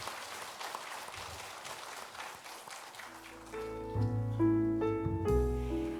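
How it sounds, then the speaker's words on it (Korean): A church congregation claps briefly for about three seconds before the applause gives way to sustained keyboard or organ chords that ring out clearly on their own. "영광의 박수 올려드리겠습니다."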